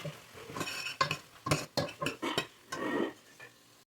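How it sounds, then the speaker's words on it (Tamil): Okra sautéed in a pan with chili and turmeric powder: a spoon scrapes and clatters against the pan in quick, uneven strokes with a light sizzle underneath, close and clear. "மிளகாத்தையும் மஞ்சள் சேர்த்துக்கலாம் நல்லா வதக்கிக்கலாம்"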